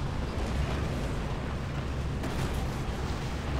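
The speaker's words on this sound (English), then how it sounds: "Somebody's shooting at me, I heard it." Gunfire in Gears of War 2, a dense, loud, unbroken wash of shooting and explosive rumble with no pauses and no voices.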